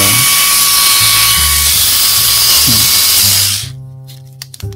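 A loud, high-pitched Mini 4WD toy race car motor whine runs steadily for about three seconds, then cuts off abruptly, leaving a few faint clicks and a short buzz.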